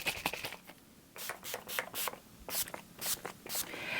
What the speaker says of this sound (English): mist my face with my makeup setting spray